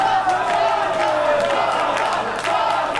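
A crowd at a women's wrestling show roars and chants at ringside, a sustained mass of voices with shouts and whoops rising over a dense, steady din.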